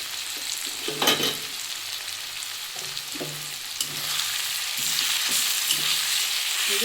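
Ginger and garlic paste sizzles and fries steadily in a pan while a spoon stirs it, giving intermittent scraping clatters over the continuous hiss; no talking.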